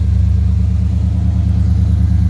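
A 1953 Chevrolet stepside pickup with a new 350 5.7-liter crate V8 and mild cam idles steadily, a loud, close, deep rhythmic rumble without any voices.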